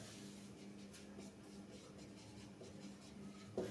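Writing on a board while solving a vector equality problem, soft continuous scratching and rubbing strokes over a low steady hum, with a small knock near the end, faint and close.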